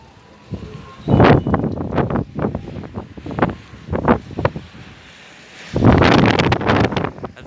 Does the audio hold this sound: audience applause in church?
no